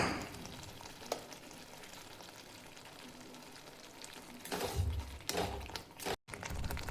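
Masala spices cook in hot oil in a pan for spicy masala okra, giving a soft continuous sizzle and bubbling, with brief louder stirring scrapes toward the end.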